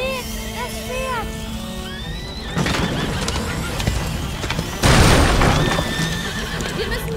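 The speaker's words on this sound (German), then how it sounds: "Seht! Das Pferd!" A horse whinnies in the medieval video game A Plague Tale: Innocence, a clear descending neigh at the start, followed by hoof clatter, rumbling booms and shouting voices in a chaotic scene.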